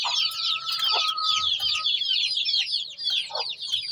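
A hen clucks repeatedly nearby while tending chicks, with soft chirping and cheeping from other birds in the background.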